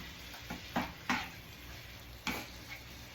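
Food browns in a frying pan with a faint, steady sizzle, broken by a few sharp clinks and scrapes of stirring utensils against the pan.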